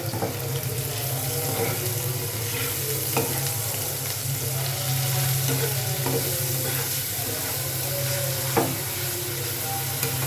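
Chopped onion with ginger-garlic, onion and cumin pastes frying in a pan, giving a continuous dense sizzle with occasional stirring scrapes and clinks throughout, close and steady with no talk.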